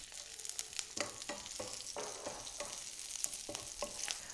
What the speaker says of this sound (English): As they begin spluttering, I'm going to add in the curry leaves. Here I have some green chilies and finally some garlic.